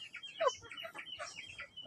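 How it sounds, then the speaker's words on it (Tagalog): Free-range chickens cluck softly as they are fed organic feed, with several short, quiet calls scattered over a faint outdoor background. "So papakain na natin to sa ating manok."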